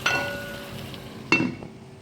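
A metal pot lid is set back on during cooking of Kuttanad-style duck curry, producing two sharp, ringing clinks about a second apart, close and clear with no talking.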